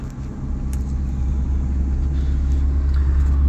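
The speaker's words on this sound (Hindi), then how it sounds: "सेकंड गियर पे कार चला रहे हैं" A car is driven in second gear on a city road, giving a steady low engine rumble from inside the cabin that builds slightly, with a few faint clicks and jingles.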